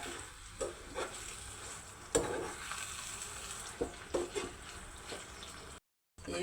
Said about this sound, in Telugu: గోంగూర వేగుతుంది కదా